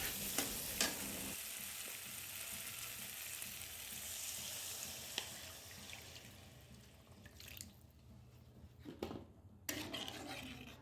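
Water poured into a pan of frying spice paste for Bengali fish curry, a hissing sizzle that rushes up and settles into bubbling, with clatter and stirring near the end.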